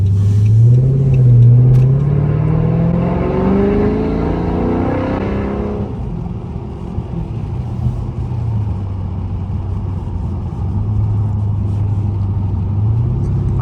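A Dodge Charger SRT8 engine revs up on the move, a deep rising roar that climbs through gears in the first seconds, then settles into a lower steady rumble and swells again near the end.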